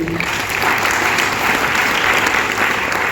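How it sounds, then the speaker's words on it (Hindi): Seminar audience in Delhi applauding during a direct-selling training session, a dense, even roar of many hands clapping close and loud throughout, with no voice over it. "वेरी गुड, एक बार ताली बजा लीजिए।"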